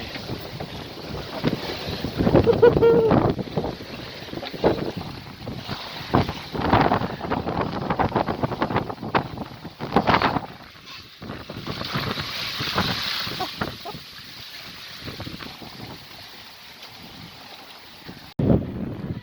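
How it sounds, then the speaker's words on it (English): Strong wind gusts roar across the microphone aboard a sailing yacht moving at about 9.5 knots off the Scottish coast near the Mull of Kintyre, with water rushing past the hull. The sound is loud and steady, with surging gusts. "The wind has picked up nicely as well."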